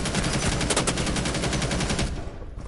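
Dense rapid gunfire from the Rainbow Six video game, loud bursts of automatic shots rattling continuously for over two seconds before cutting off abruptly, with no talk.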